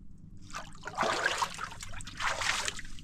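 Sulfuric spring water trickles out from between stones beside a bay on a Lycian Way hike in Turkey, a soft, steady close-up dribble with gentle splashy swells and no talking.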